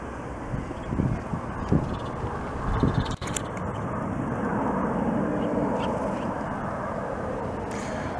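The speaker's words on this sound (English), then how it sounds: "737-200. That is one of the most vintage commercial jetliners still in service." A Boeing 737-200 jetliner in Air Inuit service comes in to land at Montreal, its engine roar a broad, steady rumble that builds and holds outdoors, with a few faint voices and a brief clunk early on.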